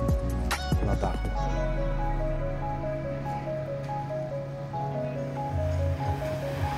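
Beach surf at Playa del Carmen, a steady wash of waves and breeze in the background under a continuous tonal hum and some music-like tones.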